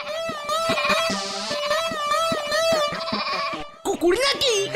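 A goat bleats repeatedly in quick wavering cries, close and loud, with people talking and shouting around it in a comic scene.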